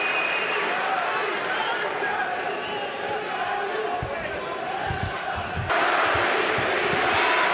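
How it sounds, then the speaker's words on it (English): A capacity crowd roars and cheers through a Munich boxing arena during the Vitali Klitschko vs Dereck Chisora heavyweight fight. The dense, steady wall of voices swells near the end, with a commentator talking over it. "And the crowd again respond to that."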